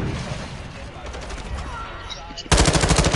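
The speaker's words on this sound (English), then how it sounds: "this AK is not that good" AK rifle fire in a video game, a brief spell of distant shots under game sounds, then a loud, rapid burst of automatic fire for the last second.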